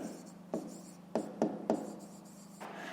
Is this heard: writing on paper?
yes